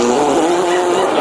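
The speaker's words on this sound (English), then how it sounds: "I make fart noises on the phone." A fart noise played from a phone fart app, a single continuous buzzy blast lasting about a second with a steady droning pitch, loud and close with no talk.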